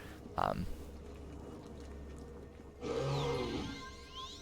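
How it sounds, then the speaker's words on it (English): Bear growl sound effect from the Neverwinter Nights game: a low, rumbling growl rises near the end, preceded by a brief guttural grunt, all faint against a quiet background hum. "Okay, so we've got Bear Growl,"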